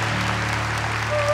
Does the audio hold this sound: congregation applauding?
yes